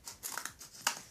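Scissors snip through cardboard in a few quick, crisp cuts, close and fairly quiet, with rustling between strokes.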